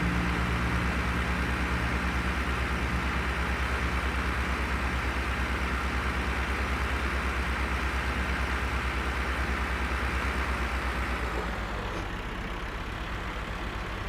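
A heavy tractor engine rumbles steadily and loudly up close, a constant low droning that eases off slightly near the end.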